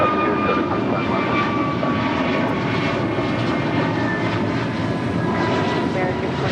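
An airliner takes off at Los Angeles International Airport, its loud, steady engine roar filling the whole stretch without a break, with faint radio-style talk in the background.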